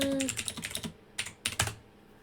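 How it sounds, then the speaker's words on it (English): Computer keyboard typing during a tabletop game session: a quick run of clacking keystrokes, then a pause and two short bursts of keys, fairly faint and with no talk over it. "I'm typing it so that you can also just have it."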